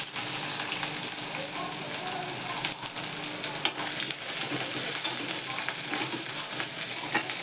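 A single chopped onion frying in a pan for a Marathi-style chutney, a steady broadband sizzle running continuously with faint stirring scrapes, close and moderately loud, no talking.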